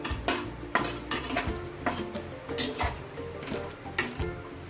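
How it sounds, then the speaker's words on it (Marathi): Cashews roast in a pan over a low gas flame, heard as repeated clinks and scrapes of a spoon against the metal pan in an uneven rhythm, close and moderately loud, with no talking. "आता आपण आपले जे काजू आहेत ते भाजून घेऊया"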